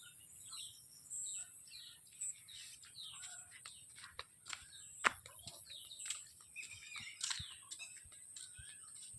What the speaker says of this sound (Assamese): চৰাই মাত